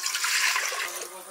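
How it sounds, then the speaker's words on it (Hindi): Water pours into a pressure cooker on a home kitchen stove, a steady bright splashing stream that tapers off near the end, close and moderately loud. "कुकर में हम डालेंगे 1 लीटर पानी"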